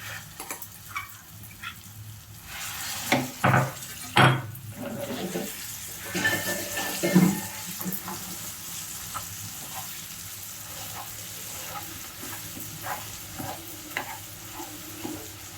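Asafoetida frying in hot oil for a chutney tempering, with a steady low sizzle and scattered stirring clinks and scrapes against the pan, a few louder knocks partway through, and no talk.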